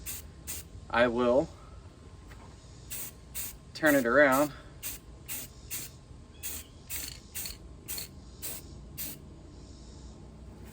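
Repeated short bursts of aerosol spray paint coat a duck decoy black, about a dozen evenly spaced hisses following one another, with someone talking between them.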